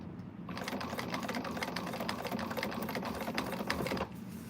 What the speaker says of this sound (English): I'm just going to keep going and get these all sewn up